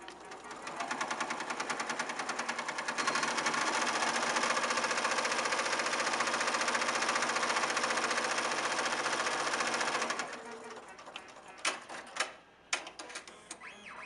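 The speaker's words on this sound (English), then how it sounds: "all we have to do is hit start to allow the machine to sew the first placement stitch." A HAPPY embroidery machine sews an applique placement stitch with steady, rapid mechanical stitching for about ten seconds, then stops and leaves a few scattered clicks and taps.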